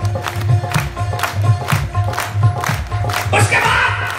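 An audience at a devotional bhajan gathering claps along in a steady rhythmic beat, loud and close, with a crowd murmur and cheering underneath.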